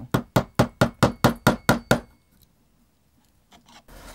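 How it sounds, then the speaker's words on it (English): A sharp chisel struck at a steady rhythm while squaring the edges of a wooden guitar neck blank, about nine evenly spaced knocks up close, followed by quiet and a few faint handling sounds. "just got to get our chisel and just square some of these edges off"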